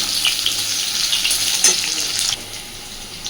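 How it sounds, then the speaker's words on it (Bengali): Potatoes frying in oil for an egg curry, a steady bright crackling sizzle held throughout at moderate level, with no voices. "শুধু আলুটাকেই আগে একটু সুন্দর করে ভেজে নেব।"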